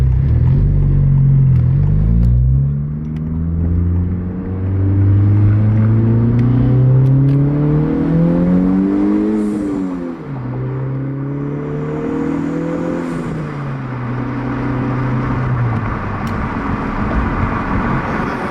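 A Honda Civic Type R FL5 fitted with a PRL carbon inlet pipe revs hard in +R mode, the engine note climbing and falling through several loud, close rev sweeps over a steady low drone, with faint turbo whoosh near the peaks.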